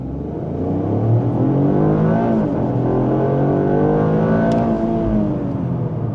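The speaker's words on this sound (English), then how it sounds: "get a little bit acceleration just down here. Going to go to drive mode and then all-wheel drive, sport mode." A Lexus LBX Morizo RR in all-wheel-drive sport mode accelerates hard from inside the cabin, its engine note rising and falling through gear changes as a loud, continuous drone with no talking.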